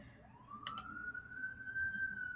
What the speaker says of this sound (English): I know y'all hear those sirens